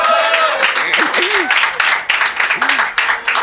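An audience at a storytelling club event bursts into applause, a clattering wash of claps throughout with scattered voices and whoops rising above it.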